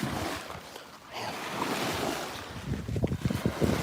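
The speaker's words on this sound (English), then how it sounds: "There's nothing like the sounds of the waves though, that's for sure." Ocean waves washing onto a winter beach near Seattle, a steady close wash of surf with wind noise buffeting the microphone and a few churning surges near the end.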